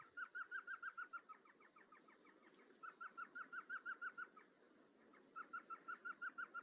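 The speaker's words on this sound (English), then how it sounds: "that's an elf owl" A small owl gives three quick runs of high, yelping chattering notes, about eight notes each, fairly faint against a quiet night background.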